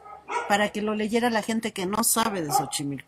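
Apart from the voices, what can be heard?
dogs barking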